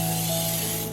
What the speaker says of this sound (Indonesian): Kalau kalian memakai cetakan, semprot cetakannya